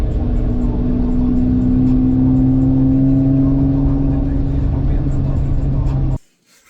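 A Honda Accord with a custom exhaust drives through snow, its engine holding a steady, loud drone with a strong low hum that runs unbroken for about six seconds before cutting off abruptly.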